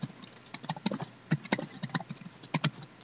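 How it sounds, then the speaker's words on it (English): Rapid laptop keyboard typing during an online Roblox game session, a steady run of light plastic key clicks with uneven rhythm, close to the mic and alone without talk. "I can hear that keyboard."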